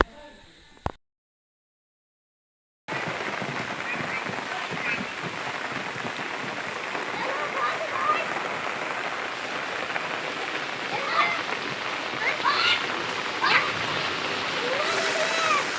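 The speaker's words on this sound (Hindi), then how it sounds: "इस सावन का तीसरा सोमवारी के जो बारिश हो रही है उसका आनंद ले रहे हैं" Heavy monsoon rain pours steadily on a flooded village road during the Sawan season, a dense, constant hiss and patter that runs unbroken after a brief silent gap near the start.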